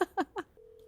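A phone call rings out in short electronic tones after a few quick, close voice sounds, the ringback held steady and clear.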